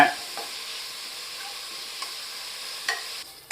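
Onions frying in a pan, with a steady low sizzle and a few sharp scrapes of a spoon stirring them at irregular intervals, and no talking.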